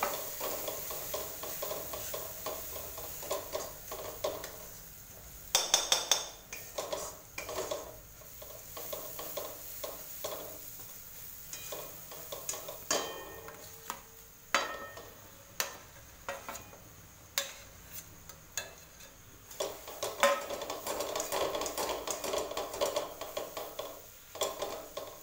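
A spoon works red chili powder, homemade black masala, garlic masala and sauce together in a pan, with quiet, scattered scraping and clinking over a faint sizzle for about twenty-five seconds. No one speaks.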